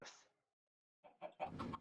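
Chicken clucking in the Minecraft video game: one soft cluck, a brief silence, then a quick run of several clucks, close and clear.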